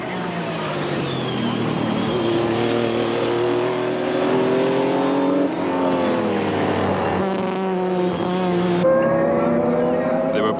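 Modified race cars from the 1993 Wesbank Modifieds series, including an Audi, roar down the main straight at Midvaal, engines howling and rising in pitch as they accelerate and pass through gear changes, with a commentator talking over them.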